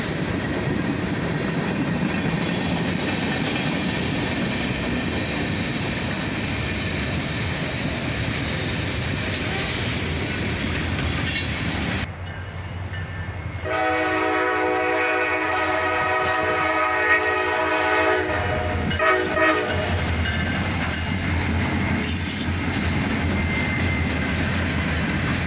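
Freight train rolling past with a flared-radiator SD70MAC locomotive trailing on a gloomy winter day, a continuous loud rumble of railcars with clatter, and a long sustained horn blast partway through.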